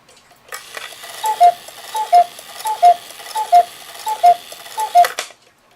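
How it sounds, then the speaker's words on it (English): A Hebert Herr 8-day cuckoo clock movement ticks at a steady, even pace, with about eight crisp, close, moderately loud ticks and no talk. "And that seems to be ticking okay."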